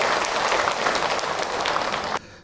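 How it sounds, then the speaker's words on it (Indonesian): Audience applause at an Islamic religious talk with Ustadz Hilman Fauzi, a steady dense wash of clapping from a crowd that stops abruptly near the end. "Tepuk tangan atuh buat bunda."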